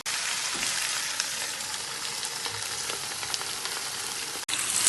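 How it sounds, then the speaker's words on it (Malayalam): Four Indian mackerel sizzle in oil in a large frying pan, a steady, dense crackle and hiss that runs continuously with no talk. "ഒരു വലിയ ഫ്രൈ പാനിലേക്കാണ് ഞാൻ വെച്ചിരിക്കുന്നത്."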